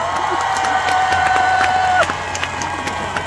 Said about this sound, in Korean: 박수 함성 한 번?